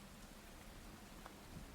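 Steady, soft rain falls as a continuous ambient patter, a quiet background wash with no voices and only a few faint distinct drops standing out.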